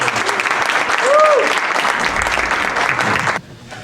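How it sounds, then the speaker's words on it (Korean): A studio audience at a Korean talk show claps loudly to welcome a guest, with a brief whoop rising over the steady applause before it cuts off abruptly near the end. "박수로 환영해 주시죠"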